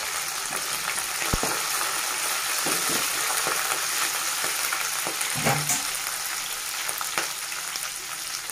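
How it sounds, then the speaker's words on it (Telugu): Onions frying in a pan with curry leaves and ginger-garlic paste, a steady hiss of sizzling oil with scattered spatula scrapes and light knocks, close and continuous. "ఇప్పుడు మనం ఒక రెబ్బ కరివేపాకు వేసుకోవాలి."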